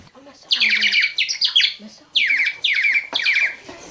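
A French water-filled whistle vessel (vase siffleur) warbles in bursts of trilling, birdlike chirps, five quick phrases imitating birdsong, loud and close, with a low murmur beneath.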